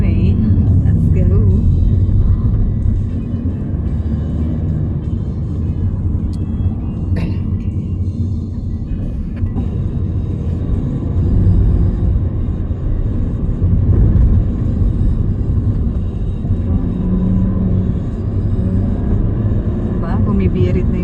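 A car engine roars steadily while climbing uphill on a mountain road in San Mateo, Rizal, a loud continuous low rumble throughout with people talking over it.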